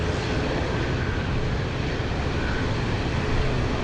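A China Cargo Boeing 777 freighter roars loud and continuous at Anchorage's Ted Stevens International airport, a broad steady jet rumble with no letup.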